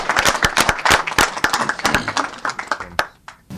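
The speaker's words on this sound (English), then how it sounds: "I got to clap on that answer." One person claps enthusiastically at a city public safety meeting about a behavioral health dispatch pilot, sharp close hand claps in a quick irregular burst that thins out toward the end.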